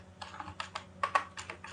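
Computer keyboard being typed on during SQL Server database work, an irregular run of soft, close keystroke clicks with no talking.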